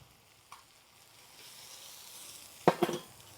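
Milk rava (semolina) sautéing with cooked tomatoes in a pan gives a faint, low hiss that swells slightly, broken near the end by two or three sharp clinks of a utensil against the pan.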